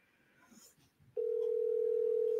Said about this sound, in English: I can hear his phone ringing.